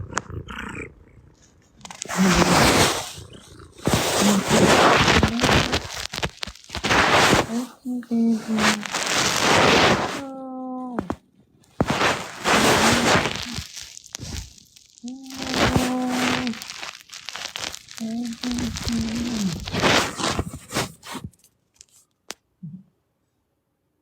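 A cat purrs in loud, rhythmic bursts, with someone talking softly between and over the purring.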